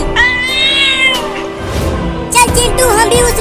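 Cartoon cat meowing in a ghost scene, a drawn-out, wavering meow near the start followed by shorter, sharper cries toward the end, loud and close with music-like tones behind.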